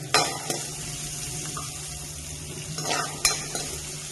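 Crushed chili sizzles as it fries in hot coconut oil, with a steady close crackle under occasional scrapes and clinks of a spoon stirring the pan.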